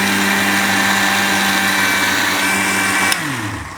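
Electric blender grinding dried chili and onion, a loud, steady motor whine close by that winds down abruptly near the end, no talking.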